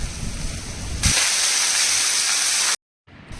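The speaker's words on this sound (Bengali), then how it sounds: "ফোড়নটা ভাজা হয়ে গেছে রসুনটা ভাজা হয়ে গেছে এবার আমি শাকটা দিয়ে দিলাম" Leafy greens hit hot oil with fried garlic and tempering spices, bursting into a loud, steady sizzle that holds for under two seconds before cutting off abruptly.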